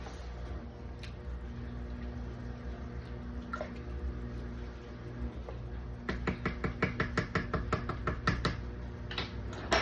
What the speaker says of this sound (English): so we're just gonna give this a really good mix.